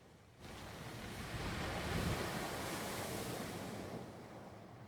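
Ocean waves breaking at the foot of a cliff in the video game Far From Noise, a steady broad wash of surf that swells and rolls on continuously, with some wind noise mixed in.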